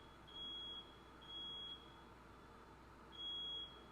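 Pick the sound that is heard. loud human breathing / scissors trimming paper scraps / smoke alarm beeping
smoke alarm beeping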